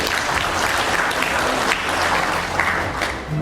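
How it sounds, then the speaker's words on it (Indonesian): Steady applause at a West Java regional police press conference, a full room of clapping with a low murmur beneath, holding at an even level for a few seconds. "Ya, kita tepuk tangan dulu."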